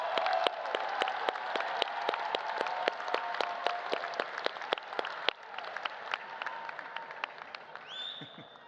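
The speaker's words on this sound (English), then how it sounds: "and give them a big round of applause." A commencement crowd at a university graduation applauds in a large hall, broad sustained clapping with a few sharp individual claps standing out, easing off near the end as a brief tone sounds.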